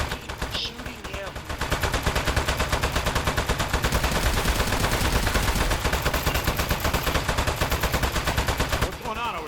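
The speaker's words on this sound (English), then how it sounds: "Keep going. We're going, sir. Keep shooting him." Sustained rapid automatic gunfire rattles loudly and continuously in the video game Aperture Desk Job, a dense burst lasting several seconds with brief quieter moments at the start and end.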